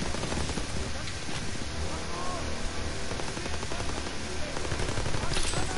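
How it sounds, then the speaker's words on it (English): Dense, continuous gunfire in a WW2 video game, with overlapping machine-gun and rifle fire forming a steady, noisy battle din throughout, under some speech. "I'm getting shot at."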